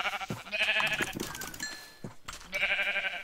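Minecraft sheep bleat twice, loud and close, with a brief pause and some game tones between the calls.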